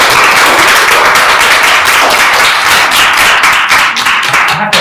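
An audience at a Korean professional community event gives loud, dense applause that holds steady for several seconds, with many hands clapping together close by and no voices over it.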